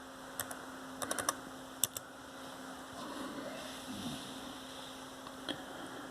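Keys tap on a Dell Latitude laptop keyboard as a password is entered: several quick clustered keystrokes, then a few isolated taps, soft and close over a quiet fan-like hiss.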